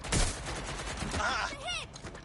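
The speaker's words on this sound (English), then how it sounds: "They're shooting!" Rapid gunfire bursts crackle in the video game Watch Dogs: Legion, dense and loud, with a voice briefly calling out near the end.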